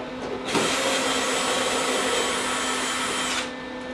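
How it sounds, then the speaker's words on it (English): Power drill backing screws out of a 1955-59 Chevy truck door, a steady loud whir running about three seconds alone before cutting off. "I'm going to take the screws out that I was using to hold it in place."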